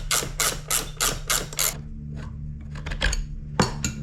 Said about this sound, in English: Love these ratchet spanners, Patrick.